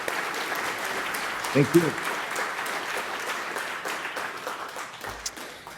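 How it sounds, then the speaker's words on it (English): Audience applause at the iHemp Summit 2018 after a speaker's talk, a steady wash of clapping running throughout with a host's voice briefly heard over it. "Fine round of applause"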